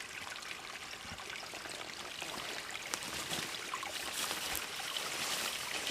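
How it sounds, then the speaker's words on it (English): Creek water trickling over rocks in a wild wetland near a beaver dam, a steady broadband burble that stays fairly even throughout and grows slightly louder toward the end, with no talk. "You can hear it trickling"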